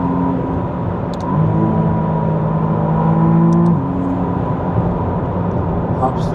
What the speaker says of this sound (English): I'm going to downshift to third and then to second.